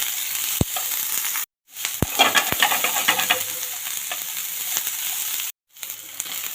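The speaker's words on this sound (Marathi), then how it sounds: "हे सुद्धा आपल्याला तुपात छान परतून घ्यायचं आहे" Capsicum and onion sautéing in ghee in a kadhai, a steady close sizzle with stirring scrapes and a few sharp spoon knocks on the pan, broken by two brief silent gaps.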